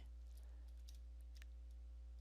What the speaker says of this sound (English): type in cd space / Windows / system 32 / config